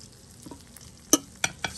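Two steak halves laid into a hot pan, giving a steady low sizzle with a few sharp crackling pops of fat over about two seconds, close and moderately loud with no talking.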